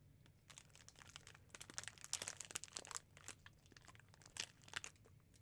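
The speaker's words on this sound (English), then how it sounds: "Seems like you can hear all my crunching." Close, crisp crunching and crinkling while someone eats a peanut butter and jelly snack, with irregular bursts of bites and chewing over a low background hum and no talk.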